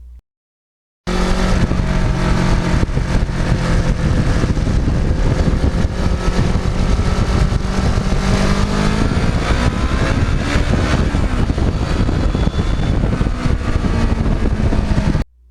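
A restored black and gold Kawasaki Ninja sport bike being ridden, its engine droning loud and steady for the whole stretch after a sudden start, with wind roar mixed in and no voices.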